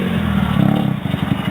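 A dirt bike engine ridden by a young beginner revs in a harsh, buzzing drone with a rough, pulsing throb, close and steady over a short stretch.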